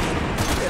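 A brief, loud burst of rapid gunfire from a zombie action shooter, a dense rattle of shots lasting under a second.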